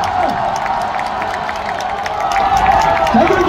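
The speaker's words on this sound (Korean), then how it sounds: "그러면 코트 오지환 선수에게 박수를 부탁드리도록 하겠습니다." Large baseball stadium crowd of LG Twins fans applauding and cheering for player Oh Ji-hwan at a regular-season championship ceremony, a steady dense wash of clapping and shouts with a PA voice ringing over it.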